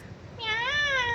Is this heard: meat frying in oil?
no